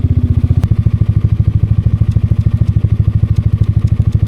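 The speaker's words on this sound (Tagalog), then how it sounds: "Huwag lang natin patayin yung makina para hindi siya bumalik." A scooter engine idles while stopped at a campsite, a steady close, loud low putter with rapid even pulses and a faint clatter, no talk over it.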